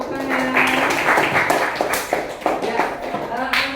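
Students in a classroom clap their hands in a short burst of applause, close and uneven, with voices mixed in over the clapping.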